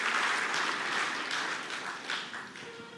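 A crowd at a Christmas church service claps together in a dense burst of applause that gradually thins and fades over a few seconds.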